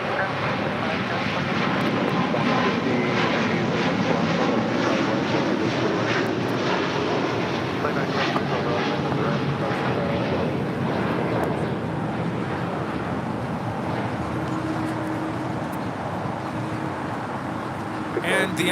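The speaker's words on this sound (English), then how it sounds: "And the Emirates A380 now rolling on 25 left." Steady, broad engine roar from an Emirates A380 airliner rolling for takeoff on runway 25 left at LAX. The sound holds at a constant level throughout, heard from a distance with wind noise and someone talking over it.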